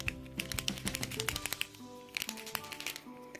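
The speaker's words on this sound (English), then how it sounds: "Next, I have these Posca pens that they're basically paint markers. They make clacky sounds." Posca paint marker pens clacking against each other on an art workstation, a quick irregular run of sharp plastic clicks and taps in two bursts, close and fairly quiet with no talk.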